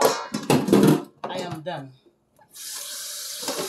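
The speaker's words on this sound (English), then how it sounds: "I wash my coconut." A coconut is washed under a running kitchen tap, a steady broadband rush of water in the second half of the clip after a short stretch of close speech and a brief pause.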